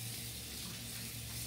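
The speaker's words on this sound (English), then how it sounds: "give it a nice rinse with hot water" A kitchen tap runs hot water over a cutting board used for cleaning fish. The rinse makes a steady, faint hiss that continues unchanged for the whole moment, with no talk over it.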